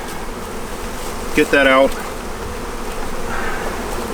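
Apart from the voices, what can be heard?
honey bees around abandoned beehive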